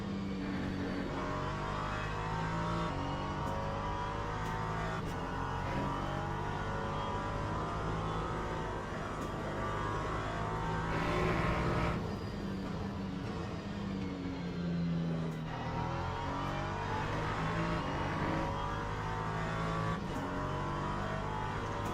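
Race cars in a racing video game at the Bahrain circuit drone continuously, engines revving and shifting through gears with occasional cars passing close, a steady mechanical roar throughout without talk.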